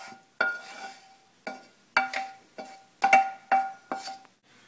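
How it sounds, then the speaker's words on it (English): Hands squish and slap through a bowl of gyro meat mixed with onions and garlic, giving about eight distinct, close, wet thuds in an uneven rhythm, with a faint ringing tone from the bowl and no talking. "we're going to get our hands dirty and just mix it all up"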